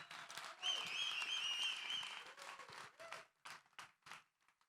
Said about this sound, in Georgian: აპლოდისმენტები მეგობრებო.